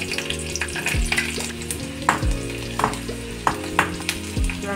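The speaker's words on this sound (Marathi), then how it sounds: "आता आपण त्यात थोडं तेल घालून घेतले, तेल आपलं गरम झालेलं आहे। आपण त्यात लसूण घालून" Garlic fries in hot oil in a kadai with a loud, continuous sizzle, punctuated by repeated scraping stirs of a spatula against the pan.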